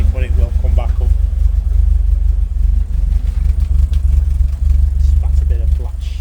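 A 1968 Ford Escort Mk1 engine idles low and uneven with no choke attached, a loud, close, pulsing low rumble running throughout, with brief voices over it.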